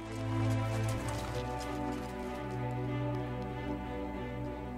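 Icelandic horses' hooves clip-clop steadily beneath a continuous tonal music bed, the hoofbeats soft and fairly distant.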